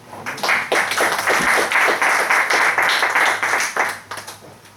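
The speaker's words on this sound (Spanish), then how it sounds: "Un aplauso para él." An audience claps for the speaker before a talk on massage. The applause is full and sustained, with dense rapid hand claps at close range that thin out toward the end.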